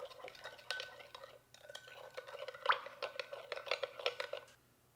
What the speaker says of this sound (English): just give this another little stir in case anything has settled